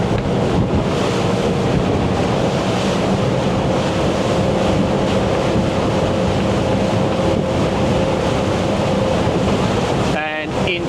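A Chris Craft Launch 31GT motorboat cruises fast across the water, its engine a steady loud drone under rushing hull spray and wind buffeting the microphone.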